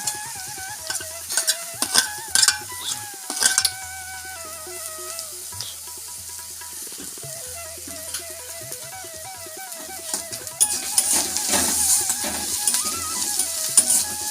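Onion and garlic cloves fry in a kadai for potol bharta while a spatula stirs and taps the pan. Soft sizzling with intermittent scraping and clinks plays under melodic background music.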